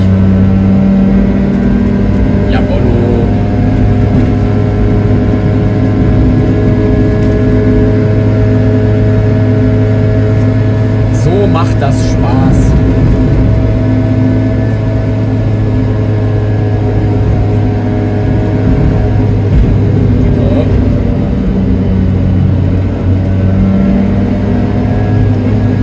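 A Piaggio Ape 50 three-wheeler engine drones steadily while driving, a loud, constant buzzing hum with slight pitch shifts over nearly half a minute and no talk.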